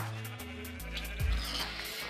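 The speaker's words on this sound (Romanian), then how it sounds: "Era să omor o oaie." A Minecraft sheep gives a single nearby bleat over steady game music, no talk.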